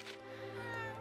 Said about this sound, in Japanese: 今そうだよね、猫の声したよね